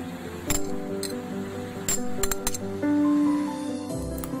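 Omelette batter with chopped green chillies, coriander and onion being mixed in a bowl, giving repeated clinks and taps of a utensil against the bowl in an uneven rhythm, close and fairly loud with no talk.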